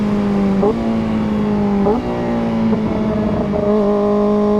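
A Kawasaki ZX-4RR motorcycle runs close by, its engine note stepping in a few distinct jumps as the revs change, with faint exhaust pops between shifts and no talking.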